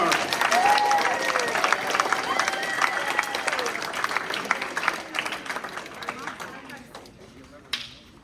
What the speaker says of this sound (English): Please give a round of applause for Team 4.